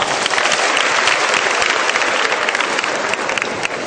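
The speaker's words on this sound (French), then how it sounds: "Applaudissez pour les femmes." Loud, dense applause from a church audience, steady throughout with no pause, broad and close, crowd noise only.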